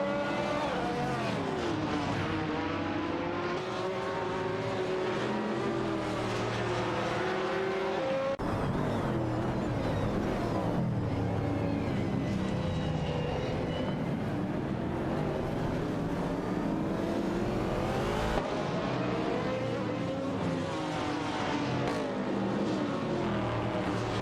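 Race cars roar around a circuit, engines whining and shifting pitch as they pass and overtake one another, with continuous loud motor drone, occasional tire squeal and abrupt changes in the mix.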